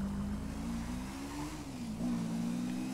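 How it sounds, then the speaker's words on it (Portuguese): Cars pass along a street near an intersection, their engines a steady, fairly close hum that dips and swells slightly as they go by. "de vez em quando passa uns carros, rapaziada"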